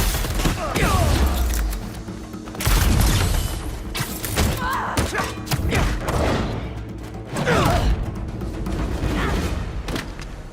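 Explosive blasts and gunfire in combat within the video game Marvel's Spider-Man 2, a grenade going off with a loud boom near 3 seconds amid a sustained fusillade, repeated heavy impacts and shouted voices throughout.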